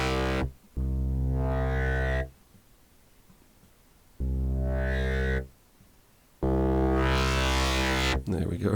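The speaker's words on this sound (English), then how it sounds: "Nice low end bass with a touch of growl" A synth bass plays long sustained low notes with distortion adding a gritty growl, three held phrases separated by silent gaps, loud and dry with no voices.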